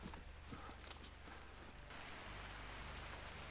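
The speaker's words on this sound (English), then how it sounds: "Of course it's raining, but that's part of Layton." Steady rain hissing in the hunting game theHunter: Call of the Wild, set in the Layton Lake district, a faint wash of drops with soft footstep-like rustles at the start.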